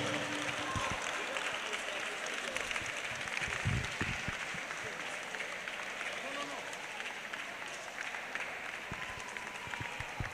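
A crowd applauds a women's football team at a Mousso Foot 2025 match: steady, dense clapping and cheering held across the whole stretch, with voices mixed in.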